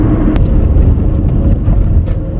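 Steady broadband rumble of a car being driven, heard from inside the cabin, constant road and engine noise throughout with a brief sharp click near the start.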